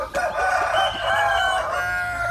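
A native Thai breeding rooster crows loudly and close by in one long, drawn-out call that fills the whole stretch.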